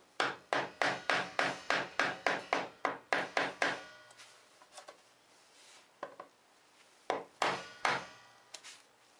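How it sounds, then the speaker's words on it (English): A chisel struck by a mallet, cutting waste wood out of a board edge for a tool cabinet: a steady run of about a dozen sharp, close knocks, then scattered softer taps and scraping, with a few louder strikes near the end. "I'm going to start chiseling out the waste on this edge."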